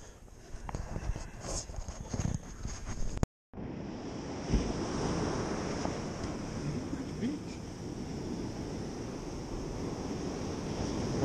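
Ocean surf at high tide on a beach, a steady rushing wash of waves with wind noise on the microphone, briefly cut out then continuing evenly at moderate level.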